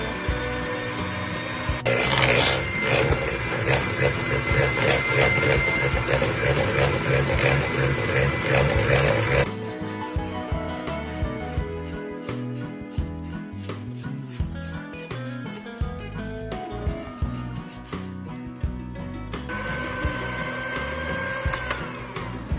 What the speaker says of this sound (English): Going to add 1 egg at a time and beat until very well combined and incorporating more air still.